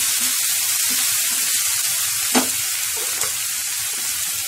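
Tomato, onion and fenugreek leaves fry with salt and turmeric over a medium flame, a dense, steady close sizzle with a couple of brief stirring scrapes partway through and no talking.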